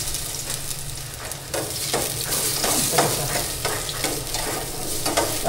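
Garlic and onion are sautéed in a pan, producing a loud, close, steady sizzle broken by repeated scraping strokes as they are stirred.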